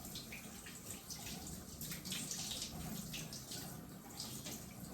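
Warm water runs steadily from a faucet into a sink during hand washing, a continuous hiss with splashes shifting as hands move under the stream, close and moderately quiet, with no talking.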